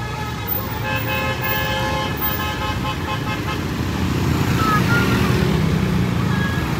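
A bus with a Tentrem Scorpion X body sounds its musical horn in sustained tooting notes as it passes along the road near Anyer beach, over steady engine and traffic noise and faint chatter from onlookers.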